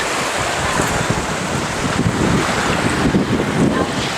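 Strong sea wind roars against the microphone while waves churn and wash below, at a coastal viewpoint near a pagoda in the water in Chanthaburi, Thailand. The blustery rumble is loud and constant, with no voices.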